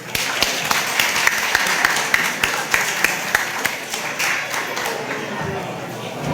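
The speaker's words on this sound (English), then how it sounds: "let's please give all of our Gala Committee members a big round of applause" Gala guests applaud the committee members in a sustained, even round of clapping with scattered sharper claps, filling the room at moderate loudness.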